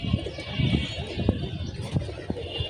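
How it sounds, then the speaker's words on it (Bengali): Pigeons coo softly in low, repeated murmurs on a rooftop where young birds have returned from flying, with a busy background and no clear speech. "কবুতরগুলা বসায় দিতে হবে"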